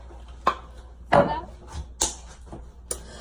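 Someone cutting up a pineapple, a few separate knife chops landing on a board at irregular intervals, close and fairly crisp.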